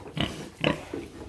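A sow grunts three times in short, low, snorting bursts at close range on a farm, with quiet pauses between the grunts.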